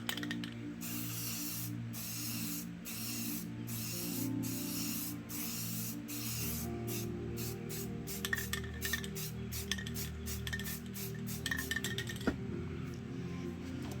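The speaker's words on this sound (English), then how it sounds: "now I'm just going to spray this black on paper" Continuous hissing spray from a black spray paint can onto paper, steady bursts with brief pauses, rattling and clicking of the can toward the end.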